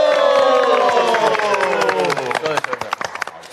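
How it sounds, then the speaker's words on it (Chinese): A live studio audience at a variety-show livestream claps and cheers. Steady applause builds under a lingering voice, then thins into scattered individual claps toward the end. "有没有掌声？"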